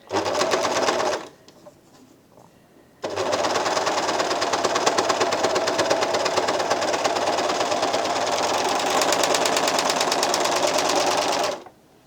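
An Elna Elina 792D sewing machine stitches across fabric with a rapid, even mechanical chatter: a short run, a pause of about two seconds, then a long steady burst that stops abruptly near the end.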